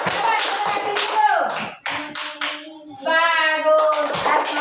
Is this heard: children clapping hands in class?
yes